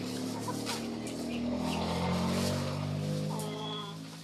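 Soft, continuous clucking and chirping from a group of young chickens, close by, with a low engine-like hum underneath.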